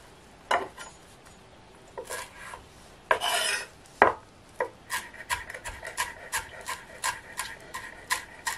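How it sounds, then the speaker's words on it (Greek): Food is grated on the fine side of a handheld grater for an eggplant dish, with a few scattered scrapes first, then a quick regular run of short, close rasping strokes, no talking. "το τρίβουμε στο ψηλό του τρίφτη"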